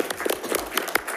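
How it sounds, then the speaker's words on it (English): An audience at a school district meeting claps for an award winner, a short burst of scattered, fairly close hand claps with no talking. "can we give this young man a round of applause for his hard work?"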